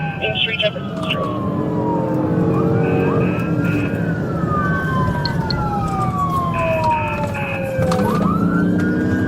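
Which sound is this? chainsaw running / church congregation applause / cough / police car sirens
police car sirens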